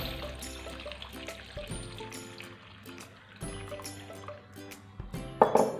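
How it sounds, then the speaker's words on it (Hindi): Water pours from a container onto peeled taro root (arvi) in a bowl, in short splashing bursts and trickles, close and fairly soft, with a few clinks near the end. "छीलने के बाद इसमें पानी डाल दें और उसको पानी में"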